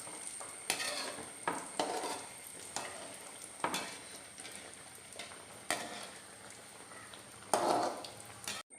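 Madakku san pastry fries in hot oil over a medium flame, a soft continuous sizzle broken by repeated clinks and scrapes of a spoon stirring against the pan.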